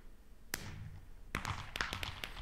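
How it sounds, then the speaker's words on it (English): Minecraft fireworks bursting in the video game, a sharp pop followed by a cluster of rapid crackling twinkle and sparkle bursts, moderately loud and heard alone. "if you guys listen closely there, you could hear the twinkle and sparkle effect"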